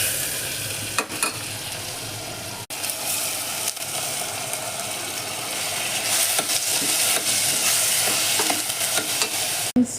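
Tomatoes and moong dal sizzle steadily in a pan as they fry, with a continuous bright crackle and a few stirring scrapes, close by and with no talking.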